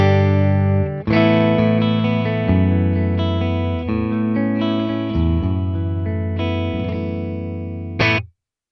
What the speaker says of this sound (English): So if I just play a chord with the reverb off for now and bass, treble and volume at noon